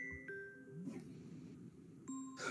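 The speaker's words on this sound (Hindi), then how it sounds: "फोन आ गया है आपका बीच में।" A phone rings during an online poetry meeting, its faint electronic ringtone sounding as a few quick tonal chimes in a quiet room.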